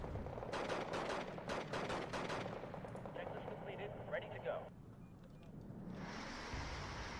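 Airstrike gunfire and blasts in the Second Korean War strategy game Wargame Red Dragon: a loud, dense run of repeated booming bursts, then a thinner rumble and a steady high hiss, with a voice briefly underneath.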